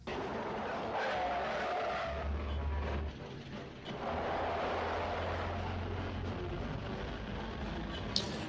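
In the 1987 film Evil Dead 2, a car drives hard with a steady engine roar and tires skidding and squealing for several seconds, dipping briefly midway before resuming, with no talk.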